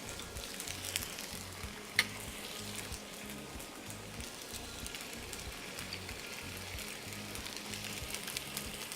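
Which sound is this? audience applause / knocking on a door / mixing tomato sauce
mixing tomato sauce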